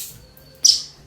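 Sparrow chicks in a nest inside a house give a single short, high chirp partway through, close by against a quiet room.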